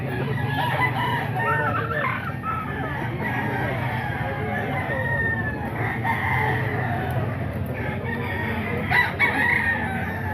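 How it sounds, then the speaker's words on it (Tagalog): Roosters crow repeatedly and chickens cluck at a roadside market stall, mixed with steady crowd noise and the chatter of a busy outdoor tiangge. "Ito manok pa ni Boss Joey mga idol."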